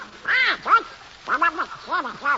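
Donald Duck's cartoon voice quacks on a vintage radio drama broadcast, an imitation rendered as bursts of nasal, gargling squawks in two quick groups, close and clear.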